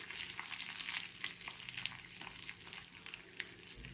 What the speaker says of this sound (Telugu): అందులో కొంచెం కరివేపాకు, ఆవాలు ఇది వేసి తాలింపు వేయాలండి పచ్చడికి